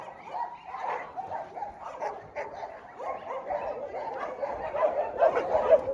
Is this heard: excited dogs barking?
yes